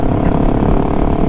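A Husqvarna 701 Supermoto motorcycle cruises along a coastal road, its engine a dense, steady low drone mixed with wind rush, loud and continuous throughout.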